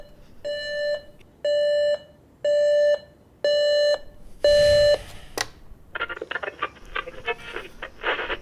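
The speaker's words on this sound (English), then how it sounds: "Is that the fire alarm?" Five loud electronic alarm beeps in a steady pattern, each about half a second long with short gaps, followed by a burst of noisy clattering.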